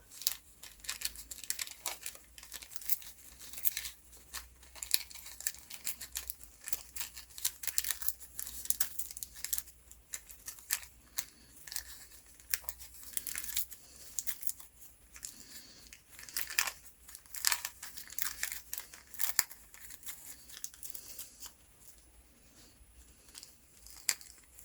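Paper torn by hand while making a Christmas market journal banner, a series of irregular crinkling rips and crackles, close and fairly quiet, with no speech.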